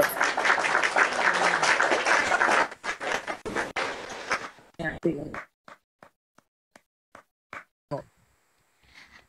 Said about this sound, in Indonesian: Tepuk tangan sih.